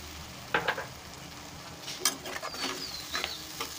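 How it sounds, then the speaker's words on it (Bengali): Mustard paste hits browned fried onions in a pan for a Bengali tilapia mustard curry, giving a steady sizzle broken by a few sharp clinks and scrapes of stirring. "এবার এর মধ্যে দিয়ে দিচ্ছি বেটে রাখা সর্ষে।"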